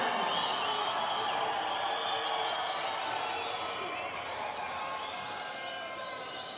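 Crowd at a Pacific Mini Games boxing bout cheering and roaring in a continuous dense wash of voices, loud and sustained throughout with no gaps.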